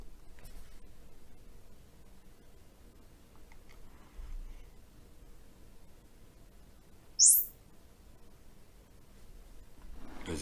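A quick rising measurement sweep plays through a Dolby Atmos height speaker, a single brief chirp over a quiet room hiss, with a few faint knocks around it.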